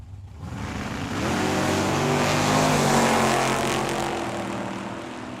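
A pair of drag racing cars launch from the starting line at a dragway, a loud rising engine roar that swells to a peak and then slowly fades as they pull away.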